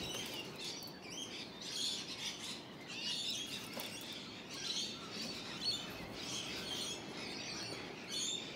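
Wild birds calling outdoors, including kookaburras and a butcher bird, with steady bright chirps and tweets repeating throughout over a soft background hiss, no talking.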